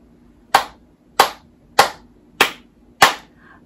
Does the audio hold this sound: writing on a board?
no